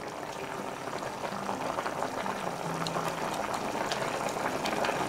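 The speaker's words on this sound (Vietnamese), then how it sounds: "Bây giờ là mình đã thấy cái nồi canh của mình nó sôi rồi nè, nó chín rồi nè." Kimchi soup with tofu and enoki mushrooms bubbles steadily in a pot, a continuous close rolling boil with dense popping and gurgling throughout and no voices.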